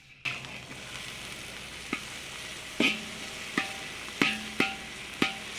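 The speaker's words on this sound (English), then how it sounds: "Give it a good stir." Ingredients stir-fried in a wok, a continuous soft sizzle punctuated by repeated metallic scrapes and clanks of a spatula against the pan, close by and without voices.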